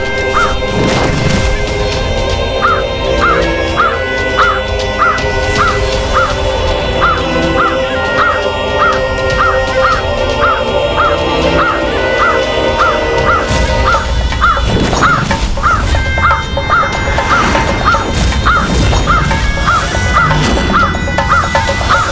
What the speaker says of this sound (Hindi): काक का कर्कश स्वर, अर्थात शनिदेव हमारे सूर्यमंडल द्वार पर पहुंच चुके हैं।